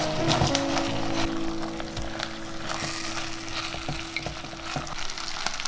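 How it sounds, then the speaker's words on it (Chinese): Rice and pork ribs seasoned with oyster sauce and salt are stir-fried in a clay pot, giving a steady close sizzle broken by frequent scraping and clinking stir strokes, with no talking. "接着可以把米加进来，一起再翻炒一下"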